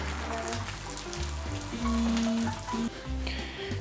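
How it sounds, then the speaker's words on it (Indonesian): A snack sizzles and crackles steadily in hot oil, a close, continuous frying hiss with scattered pops and no voices. "Nih, sudah bisa kita goreng."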